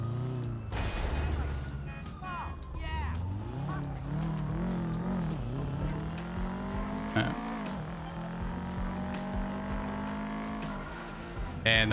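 A car being driven in the video game GTA roars with revving engine and squealing, skidding tires, loud and continuous throughout.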